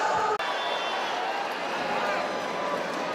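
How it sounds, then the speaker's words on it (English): A dense crowd roars steadily at a women's boxing event in an arena, loud and sustained for the whole stretch, with an announcer's voice faintly blended into the noise. "This crowd is going crazy."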